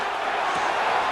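Stadium crowd roar from the American football video game Madden NFL 26, a steady dense wash of cheering at third down, loud and continuous with no clear breaks.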